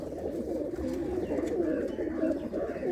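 Pigeons coo steadily in a close, warbling murmur, several birds overlapping in a continuous burbling chorus with faint clicks and rustles behind.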